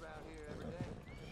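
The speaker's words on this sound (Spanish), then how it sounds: "¡Mi caballo, mi caballo!" A horse in the open-world western game Red Dead Redemption 2, with short clip-clop hoof sounds and a brief whinny under a steady bed of game ambience, briefly and moderately loud.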